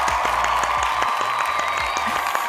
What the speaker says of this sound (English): Help me welcome her with a great round of applause, Coco.